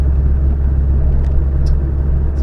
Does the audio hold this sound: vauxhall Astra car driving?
yes